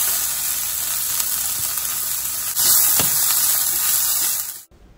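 Onions, shredded ginger, fresh turmeric and green chili with mustard seeds frying in hot oil give a steady, close sizzling hiss for nearly five seconds, broken by a faint clink near the middle, before cutting to silence.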